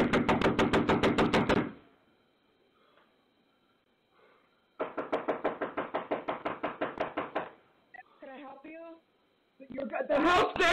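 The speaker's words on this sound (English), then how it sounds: "I'm knocking on the door" Rapid bursts of knocking on a house door, fairly close and loud, come in two long runs separated by a pause, with someone calling out between and after them.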